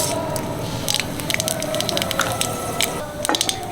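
Dried red chilies and mustard seeds crackle and spit in a little hot oil for a chutney, a steady close sizzle broken by sharp popping bursts.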